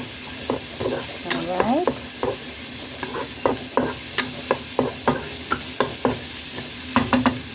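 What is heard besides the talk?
salmon cubes being added to a pan and cooked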